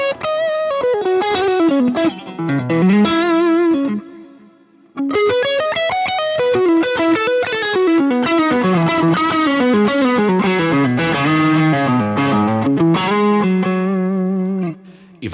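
Electric guitar run through a Boss GX-100 multi-effects unit on its sky blue pink factory preset, played alone as a distorted, chorused melodic line with sustained notes, a brief pause near four seconds, then continuous phrases.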